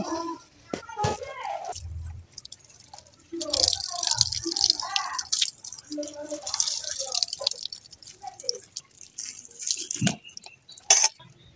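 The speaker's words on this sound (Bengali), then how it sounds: "আমি এবার যতটা পারা যায় এরকম নিগড়ে নিগড়ে চেপে চেপে জলটা বের করে ফেলে দেব" Grated wax gourd is squeezed by hand, wringing out water that drips and splatters in uneven spurts, with wet squishing sounds under a voice speaking throughout.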